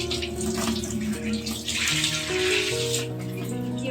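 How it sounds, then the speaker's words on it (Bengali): Water gushing steadily out of a pipe at a rented house, a loud continuous rushing stream with no talk over it. "তো অনেকক্ষণ ধরে যেহেতু নল দিয়ে ওরকম জল বেরোচ্ছে"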